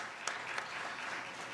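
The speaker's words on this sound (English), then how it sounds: "Big round of applause for them one more time" Quiet, steady applause from an audience at a Bharatanatyam arangetram, a soft continuous patter with a couple of louder individual claps near the start.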